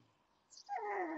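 A tiny stray puppy whimpers softly and then breaks into a run of high, thin yips that grow louder toward the end, heard close up with no talking over it.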